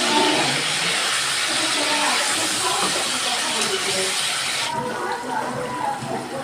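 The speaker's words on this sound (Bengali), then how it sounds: "এবার দিয়ে দিচ্ছি আমি জল" Water pours into a hot pan of masala-fried puti fish, a steady broad rushing hiss that holds throughout and eases slightly near the end.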